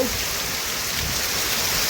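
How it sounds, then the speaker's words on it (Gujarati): Heavy live rain falling in Ranpar village, Bhanvad taluka, Devbhumi Dwarka district, a dense continuous hiss of drops, steady and alone. "રાણપર ગામે લાઈવ વરસાદ ચાલુ"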